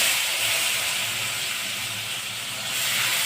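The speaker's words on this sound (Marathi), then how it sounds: "आता जिरे तड तडले आपण" Cumin seeds crackle in hot oil for a hadga flower bhaji, a steady bright hissing sizzle with faint scattered pops, close and continuous with no voice.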